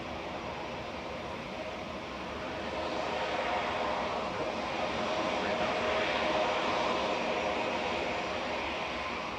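A jet airliner's engines at Manchester Airport make a distant, steady roar that swells slightly midway and holds as a broad rumble.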